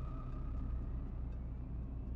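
Low, steady engine rumble heard from inside a police squad car in a video game, a continuous droning hum with no talk over it.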